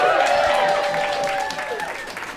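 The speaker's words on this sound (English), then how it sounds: "Let's have a big round of applause for Jenny." An audience of a classical-music and beer event applauding, a brief burst of clapping that fades over a couple of seconds, with a voice speaking over it.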